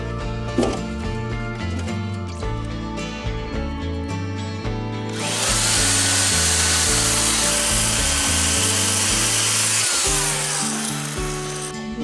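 Firewood being cut with a saw at close range, first a rhythmic series of pulled strokes through the wood, then a loud, continuous high-pitched cutting roar that runs for several seconds before easing back into the strokes.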